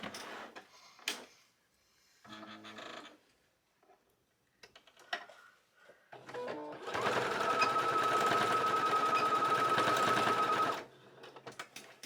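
A sewing machine stitches two fabric bow pieces together for a garland, running in one close, steady burst of rapid mechanical whirring for about four seconds, set between quiet handling clicks and rustles.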